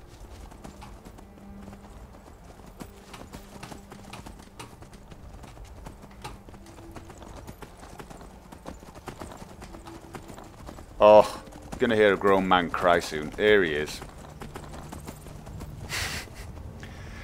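Horse hooves in Skyrim clop along in a steady rhythm beneath someone talking, the footfalls moderately close and continuous under the speech.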